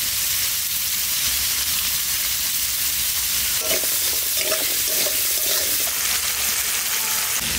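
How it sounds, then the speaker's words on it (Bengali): Potatoes fry in a pan with salt and turmeric, a loud continuous sizzle and hiss close up, with a few spatula scrapes partway through and no talking. "এবার আলুটা ভেজে নেব। নুন হলুদ দিয়ে দেবো।"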